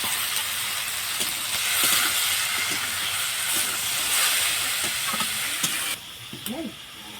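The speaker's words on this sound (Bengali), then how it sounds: "এইভাবে ভাজা ভাজা করে নেবেন, তাহলে ভালো হবে খেতে।" Chicken skin fries in a pan with turmeric and a little salt, giving a steady close hiss and sizzle broken by occasional stirring scrapes; the sizzle drops quieter near the end.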